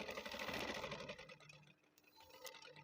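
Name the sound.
sewing machine stitching a shirt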